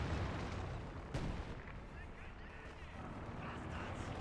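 Artillery barrage in the Company of Heroes 2 strategy game, a dense continuous rumble of distant shell impacts and booms with one sharper blast, heard under steady commentator talk.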